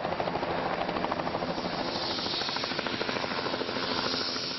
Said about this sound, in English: You can see one helicopter landing on top of Children's Medical Center